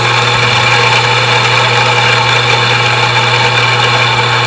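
An Anfim grinder grinding coffee beans at espresso fineness, a loud, steady droning whir with a constant hum that stays unchanged throughout.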